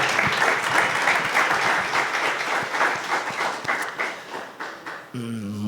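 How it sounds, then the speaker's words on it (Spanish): Warm audience applause welcoming a professor to a university lecture, sustained dense clapping for about five seconds that tapers off, followed by a brief tonal sound. "Recibamos con un aplauso también al profesor Iván Carmona"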